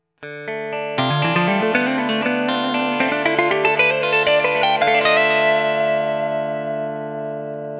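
Electric guitar plays a steady ascending run of single notes through heavy reverb and echo, the final note ringing out and slowly fading.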